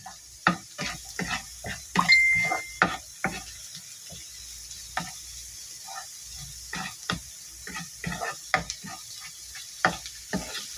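Garlic browning in melted butter in a pan for a simple shrimp dish: a soft, steady sizzle broken by frequent sharp clicks and scrapes of stirring, close and fairly loud, with no talking.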